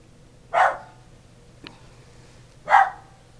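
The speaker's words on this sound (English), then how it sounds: "the dog is barking" Two single dog barks spaced about two seconds apart, moderately distant, with a faint click between them in a quiet room.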